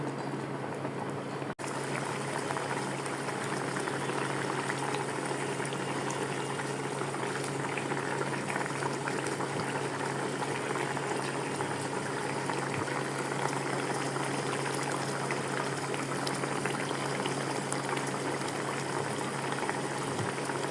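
Hilsa fish curry with green chillies simmers in a pan: a steady, fairly quiet bubbling and boiling that runs unbroken throughout, with no voices.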